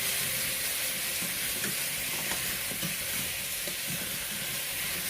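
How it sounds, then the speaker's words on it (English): Diced radish fries in a hot pot over medium-high heat, a steady close sizzle running throughout with soft scraping and clinking as it is stirred, no talking. "just going to stir that around until it looks evenly kind of golden brown"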